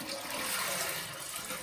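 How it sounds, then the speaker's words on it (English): Hot tap water pours from a pitcher into a toilet tank, a full, steady gushing splash that stays loud and close from start to end. "So now I'm pouring in my hot water"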